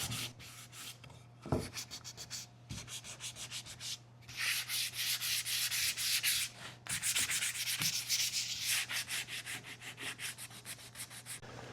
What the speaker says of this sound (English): I'm just gonna lightly distress and sand the transfer as well as the cutting board